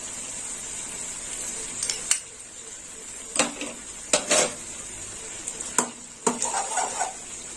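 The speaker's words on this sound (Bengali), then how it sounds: "এবার একটু হলুদ একটু তেলের মধ্যে ভালো করে নাড়িয়ে চালিয়ে নিই আর দিয়ে দেবো আদা রসুন বাটা এক চামচ" Turmeric and ginger-garlic paste stirred into hot oil in a pan, with a faint steady sizzle broken by several sharp clanks and scrapes of a spoon against the metal.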